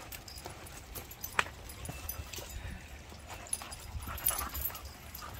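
Dogs scuffle and play at low volume at a dog boarding facility, with soft whimpers and occasional paw clatter on a hard floor, no talking.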